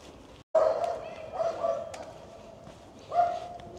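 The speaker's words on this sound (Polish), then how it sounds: "Ale psy ze sobą gadają." A few old dogs barking back and forth outdoors, hoarse, weak woofs in short bursts at moderate distance, with some faint background noise between them.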